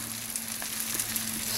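Brook trout sizzle on campfire coals: a steady, close hiss with faint crackles and no voices.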